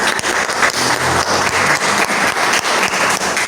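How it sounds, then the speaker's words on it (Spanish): Audience applause at the close of a Bible study workshop, a sustained dense burst of clapping from a room of people, loud and continuous for several seconds. "Un aplauso."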